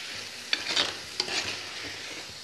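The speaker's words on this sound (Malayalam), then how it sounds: "പയറിട്ട് കൊടുക്കാം. നല്ല പോലെ ഒന്ന് ഉലർത്തിയെടുക്കാം." Cooked beans being stir-fried in a pan, with quick scraping stirs and light sizzling, a few sharp spatula clicks, close and alone.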